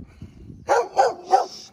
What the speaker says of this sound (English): Once again, sorry about the dog.